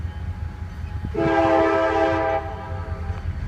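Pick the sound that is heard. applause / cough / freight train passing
freight train passing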